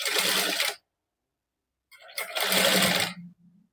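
A sewing machine stitches piping onto a princess-cut blouse in two loud bursts of running stitches with a pause between, then a short quieter whir at the end.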